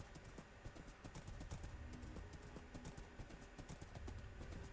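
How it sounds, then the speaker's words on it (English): Rapid rhythmic clip-clop of horse hooves at a gallop in Minecraft, quiet and steady, repeating evenly throughout. "This is a nice fast horse."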